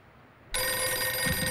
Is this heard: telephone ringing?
yes